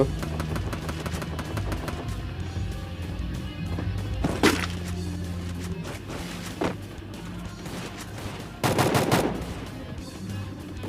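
Video game shotgun fire rings out in a handful of loud, separated blasts over a busy background of footsteps and clatter.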